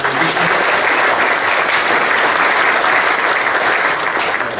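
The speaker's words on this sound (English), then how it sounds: "One more round of applause for" A conference hall audience applauds the event volunteers, a full, continuous roar of clapping from a large crowd that stays loud throughout and eases off slightly at the very end.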